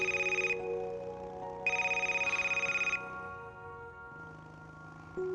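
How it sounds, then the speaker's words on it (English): A video game telephone rings in two clear electronic bursts with a pause between, loud and close, while a steady synthetic tone and background game music continue without speech. "I hear the phone ring."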